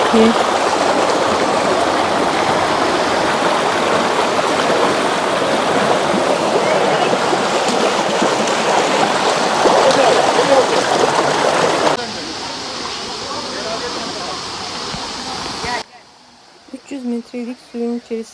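Loud, continuous roar of the Gizli Kent waterfall in Kaş, Turkey, close by, fading to a quieter rush before a voice starts speaking at the end.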